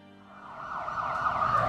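A large ambulance siren holds a steady, drawn-out tone that swells gradually louder over a low rumble of nearby traffic, with no speech.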